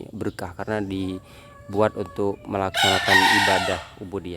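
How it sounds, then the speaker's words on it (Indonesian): A rooster crows in the grounds of an Islamic boarding school in Sumenep, Madura, its drawn-out call rising midway through a man's close, continuous talking and partly masked by it. "masih terdengar suara ayam yang berkokok ya"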